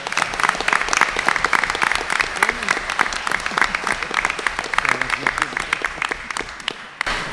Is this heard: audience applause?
yes